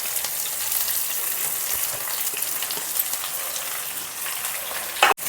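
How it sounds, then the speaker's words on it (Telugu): Garlic, onions, coriander stems, curry leaves and dried chillies fry in hot oil for a South Indian radish sambar, giving a steady, close, dense sizzle throughout. "ఇది ఫ్రై అవ్వాలండి."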